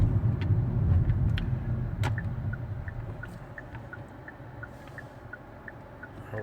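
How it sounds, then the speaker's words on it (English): Road traffic around a car in Houston, a steady low rumble of engines and tyres from inside the vehicle, louder at first and gradually easing, with faint ticking like a turn signal through the second half. "In traffic currently."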